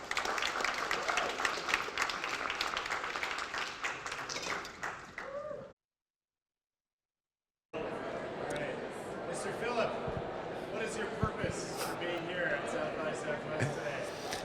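An audience at a SXSW talk claps, dense applause that fills the room, drops to silence for a couple of seconds, then resumes more loosely with scattered claps and crowd noise.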